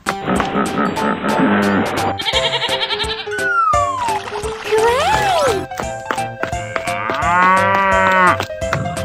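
Cartoon cow mooing in several drawn-out, pitch-bending calls, loud and close, mixed in with playful music and other animated animal voices.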